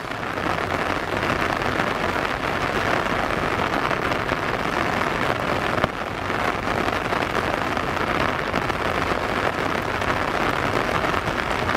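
Steady, dense rain pours down continuously beside a railway line, a broad even wash of noise with no voices.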